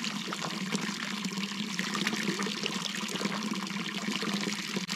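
Water streams steadily from an OKO filter water bottle, a soft continuous pour and trickle lasting throughout, fairly quiet and with no talk.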